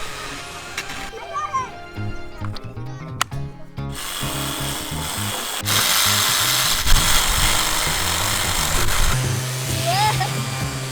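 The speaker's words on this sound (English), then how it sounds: "This is the drill." An electric power drill runs in steady bursts, loud and close, with a voice and other talk over parts of it.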